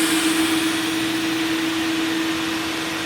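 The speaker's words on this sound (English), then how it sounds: "All the vacuum cleaners are running right now" Car wash vacuum cleaners on East Colfax in Denver, Colorado running together as a loud, steady whine with a constant hum, heard up close and without any talking.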